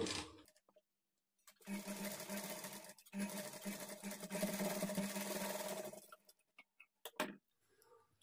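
A sewing machine runs in two bursts of fast, steady whirring and clatter as it stitches a quarter-inch seam on a lehenga blouse for a 9-10-year-old child, with short pauses and faint handling noises between.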